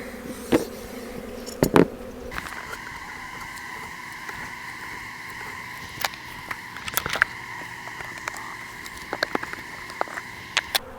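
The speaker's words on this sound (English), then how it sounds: "bees are kind of in a robbing mood" Honey bees in a robbing mood buzz around a hive in cold weather, with scattered close passes whining by amid a faint steady hum and occasional sharp knocks and taps.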